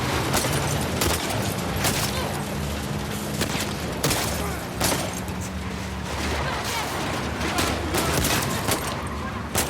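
Gunfire in The Last of Us Part II, a dense, continuous fusillade of shots and bursts with booms and crashes filling the whole stretch, loud and close, with voices talking over the combat.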